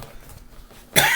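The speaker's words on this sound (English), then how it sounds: "Sorry about the coughing." A single short, sharp cough bursts out close to the microphone indoors after a second of quiet room tone.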